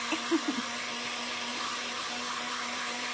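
A hair dryer blows steadily over an IOD paint inlay on a ceramic piece, a constant close whooshing hum with a few faint knocks at the start and no talking.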